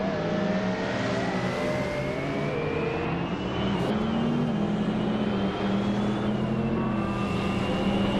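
A 1993 McLaren F1 racing in a video game, its engine holding a steady high-pitched drone with gradual rises in pitch as it accelerates, loud and continuous with no talking.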